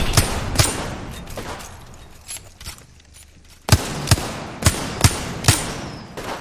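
Gunfire in the video game Apex Legends: scattered single shots early on, a quieter stretch, then a loud, steady string of evenly spaced shots, close and without talk.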